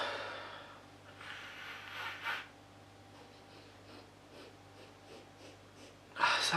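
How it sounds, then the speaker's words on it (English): Someone sniffing a glass of hazy pale saison beer, several soft breathy inhalations close to the microphone, with a louder sharp sniff at the end and a quiet hum underneath. "So let's give it a sniff."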